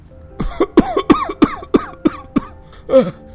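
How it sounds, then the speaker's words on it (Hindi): A person coughing repeatedly, about eight harsh coughs in quick succession, close and loud, ending with a throaty, drawn-out cough. "उसकी खांसी बंद ही नहीं हो रही थी।"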